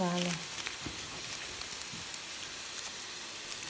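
Soy sauce poured into a hot pan, where a brief tonal note at the start gives way to a steady close sizzle and crackle that holds evenly to the end, with no talking over it.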